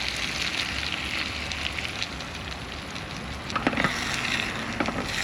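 Dense, loud sizzling of egg added to bitter gourd (ampalaya) frying in a pan inside a car, a continuous crackle with a few sharper pops and clatters toward the end.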